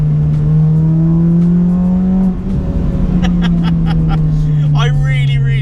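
A Honda Civic FD2 Type R engine holds a steady drone, then climbs in pitch as it revs hard into VTEC and accelerates, heard from inside the car.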